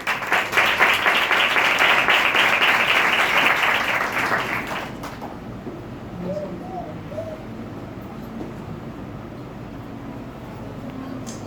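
A church congregation at a Sunday meeting claps steadily in loud applause for about five seconds, welcoming the pastor, then the clapping cuts off, leaving faint room noise and bird coos.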